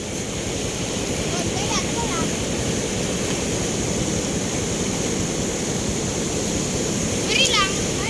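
The Batang Pakau river in Pasaman rushes in a sudden surge without rain, a loud, steady roar of churning water close by, with faint chirps rising above it.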